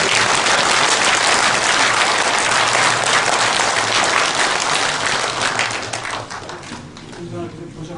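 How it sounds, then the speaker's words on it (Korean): Sustained audience applause fills a Korean lecture hall during a veterans' tribute, dense and loud throughout, then thinning toward the end. "박수를 보내주시기 바랍니다"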